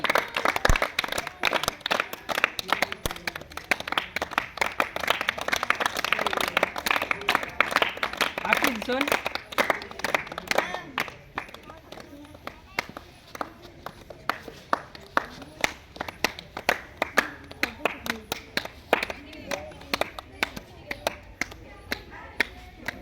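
A small group claps hands at a home cake-cutting celebration: dense rapid clapping for about ten seconds, then thinning to scattered claps, with people talking throughout.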